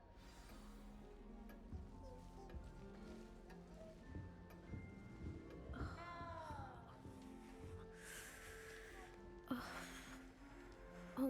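A cat meows a few times amid the game world of Hogwarts Legacy, heard in a castle setting with ambient music and background sounds, short rising cries standing out in the middle of the clip.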